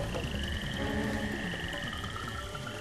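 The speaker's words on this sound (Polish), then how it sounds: "Żaba!" Frog croaking in the video game Evil Islands, a continuous chorus of croaks over dense ambient background noise, steady and moderately loud.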